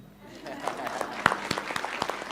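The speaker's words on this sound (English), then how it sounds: "Oh, you can clap for me then." Scattered, sparse hand claps from a small audience at a workshop for persons with disabilities, a handful of distinct sharp claps building after a quiet start, with faint voices in the background.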